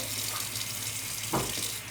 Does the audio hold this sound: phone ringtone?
no